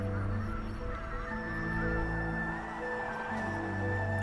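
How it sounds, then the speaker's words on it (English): Geese honk repeatedly in the video game Ori and the Will of the Wisps, loud and steady over a droning musical background, with overlapping calls throughout. "Oh, it's the geese."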